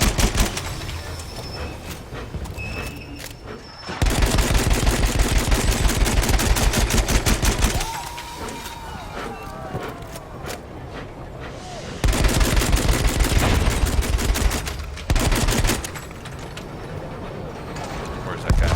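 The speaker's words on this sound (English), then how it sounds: "see they're still shooting at us" Bursts of Battlefield 1 gunfire crack and rattle through the match, loud and near, sometimes as rapid machine-gun strings, with quieter stretches between the volleys.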